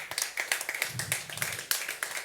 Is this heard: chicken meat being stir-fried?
no